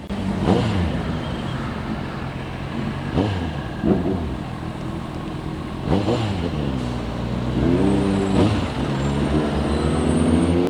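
A Kawasaki Ninja 1000SX motorcycle engine rises and falls in pitch through repeated rev sweeps while riding in traffic, loud and close, with rushing wind and other vehicles passing around it.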